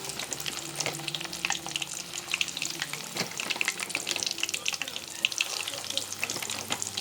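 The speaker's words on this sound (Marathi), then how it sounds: "तेल तापलें सो आतां तितून नगेट्स घालता" Nuggets sizzle and crackle steadily in hot oil in a home kitchen pan, a dense, continuous frying hiss close by with no talking.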